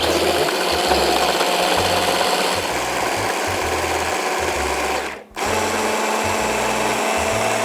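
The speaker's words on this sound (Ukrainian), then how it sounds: "збивається наш паштетик" An electric blender whips a white bean and mushroom pâté, a loud, steady motor whir that pulses and cuts out briefly near the end.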